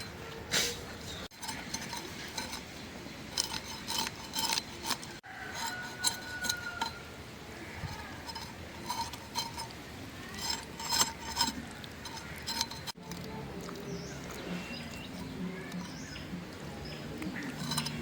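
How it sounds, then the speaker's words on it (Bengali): A fish being cut up for a recipe in a home kitchen: irregular clicks, taps and scraping of a knife and utensils against dishes, clustered in busy bursts across the clip, fairly close, with occasional faint voices in the background. "এখন এই মাছটাকে কাইটে নেব"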